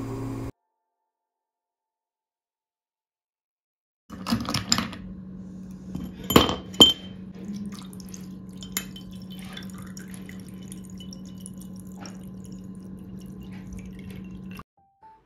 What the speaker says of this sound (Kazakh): Дайын болған лимонадты ыдысымызға сетадан өткізіп құямыз.